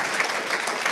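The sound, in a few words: audience applause for speaker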